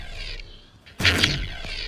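Sniper rifle shot fired in a first-person shooter video game during a 1v1 match: one loud, sharp report bursts in about halfway through, ringing out over a quiet background with faint game ambience before it.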